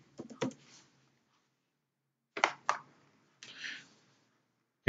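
Someone types on a computer keyboard in a few short bursts of close clicking keystrokes, separated by silent gaps.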